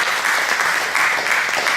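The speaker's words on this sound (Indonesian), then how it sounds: "tepuk tangan dulu buat Tuhan kita yang luar biasa" A church congregation claps loudly and steadily, a dense, continuous wash of applause with no voices over it.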